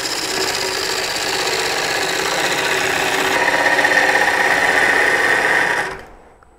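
A wood lathe spins a live-edge bowl with an embedded nut while a tool nibbles material from the inside, a steady loud whirring hum with a rising tonal whine that cuts off as the machine stops.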